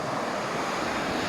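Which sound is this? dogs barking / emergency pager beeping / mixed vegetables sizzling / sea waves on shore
sea waves on shore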